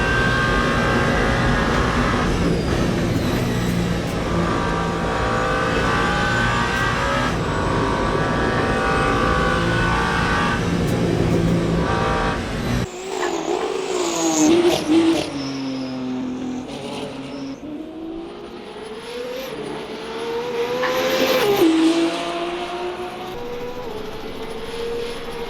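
Race car engine in the Le Mans Ultimate sim during a 24 Hours of Le Mans race, a loud continuous roar that drops sharply midway, then rising and falling revving pitch through gear changes.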